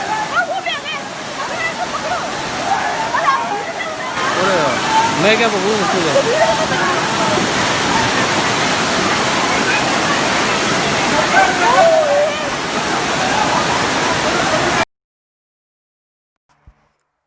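Torrential floodwater from heavy rain and hailstorms in India surges and roars continuously, loud and close, with someone briefly speaking over the rushing water before the sound cuts off abruptly.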